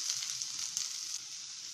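Chopped large onion fries in hot oil with mustard seeds and urad dal for Chettinad masala seeyam, giving a steady, close, bright sizzle with no talking.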